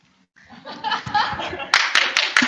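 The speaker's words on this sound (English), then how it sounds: "Applause, applause for unpaid work." Audience applause breaks out at a live speech event, rising from scattered claps into steady clapping with a few sharp bursts near the end, mixed with light laughter.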